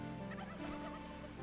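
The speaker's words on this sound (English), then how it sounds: "Ah, little chickens." Chickens in the fantasy online game Legends of Aria, giving a soft gobbling, clucking call that is faint and brief against a steady background hum.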